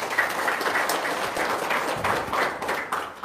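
Audience applause at a motivational talk on success: a short, steady burst of many hands clapping together, moderately loud and close.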